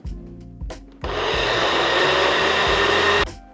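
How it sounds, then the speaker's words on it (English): Blender pureeing the chunky ingredients of a Korean short rib marinade, with a couple of short pulses followed by a loud, steady whirring run of about two seconds that then cuts off, heard close with no talking. "We're going to puree all the big stuff"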